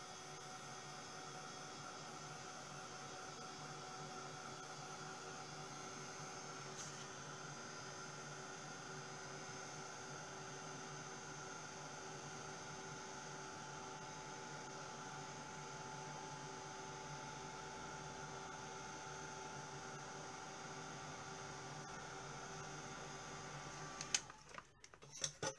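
Steady, even rush of blowing air from a drying tool aimed at a decorated craft album, running unbroken and fairly close for most of the stretch before cutting off with a few clicks near the end.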